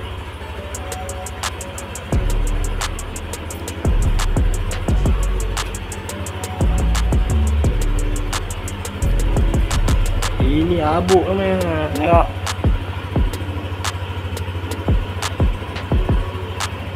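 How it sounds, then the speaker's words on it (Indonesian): A Yamaha NVX scooter left unused for three months idles with a low, steady engine hum and intermittent clicks and knocks, under someone speaking nearby. "Motor masih hidup, motor masih hidup."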